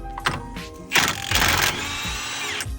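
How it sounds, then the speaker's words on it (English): A wrench with a 32mm socket removes the axle nut from a 2016 Kia Soul during a driver-side knuckle replacement. Sharp mechanical bursts lead into a loud, steady whirring run, close up, with no talking. "we're gonna take off the axle nut and free up the axle"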